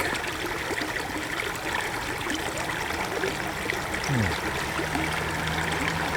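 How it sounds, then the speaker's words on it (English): Water flowing in a creek, a steady close rushing and trickling babble that fills the whole stretch at an even level, with a faint low hum sliding underneath near the end. "Sound of the water."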